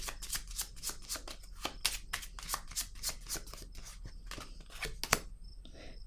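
Tarot cards are handled and laid down on a table, giving a quick series of crisp papery slaps and shuffling flicks with one sharper snap near the end, close and fairly quiet, with no talking.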